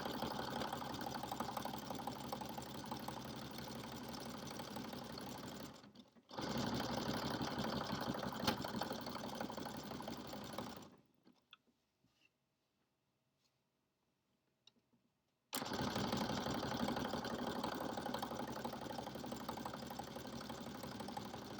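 A home sewing machine runs in steady bursts while stitching fabric pajama pants, two long runs broken by a brief pause and then a stretch of full silence before the machine starts up again, close and moderately loud.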